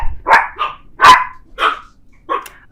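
Several dogs bark loudly and close by at an open front door. The sharp barks come in quick, uneven bursts, with short pauses between them.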